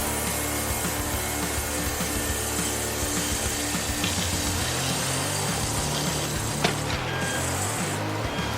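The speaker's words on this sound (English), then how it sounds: "The circular saw blade spun rapidly, the sharp saw teeth digging deep into the wood" A circular saw blade spins through wood in continuous cutting, a dense steady mechanical roar with grinding texture throughout and a brief sharp spike near the end.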